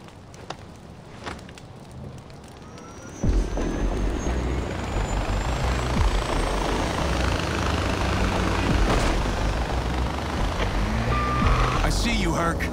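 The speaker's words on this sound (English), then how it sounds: "I found the chopper, Herc." Helicopter in the video game Far Cry 4, a steady loud rotor and engine drone that starts abruptly a few seconds in and runs continuously, with vehicle noise mixed in.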